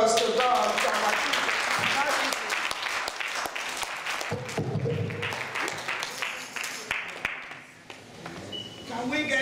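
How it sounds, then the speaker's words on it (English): An audience at a children's church Bible quiz breaks into loud, sustained applause that slowly thins toward the end, with voices mixed in. "let's give hand applause to God."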